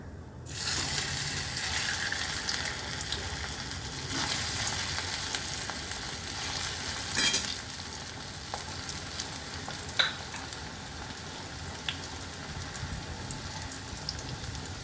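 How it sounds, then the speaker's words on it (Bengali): Kakrol (spiny gourd) stuffed with lentils and frying in oil gives off a loud, close, broadband sizzle that hisses steadily and then eases slightly, with a few faint clinks along the way. "এবার আমি এক এক করে এগুলো ভেজে নেব।"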